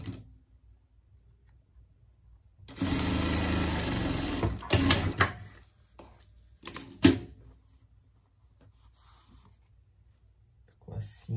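A sewing machine stitches fabric for a pet dress in one loud continuous run of about two seconds, followed by a few short bursts and clicks, then quiet.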